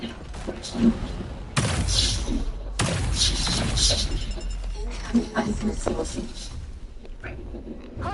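Missiles slam into a combat robot in War Robots, landing as loud, heavy thuds and booming impacts in quick succession, with a synthetic voice speaking over the explosions.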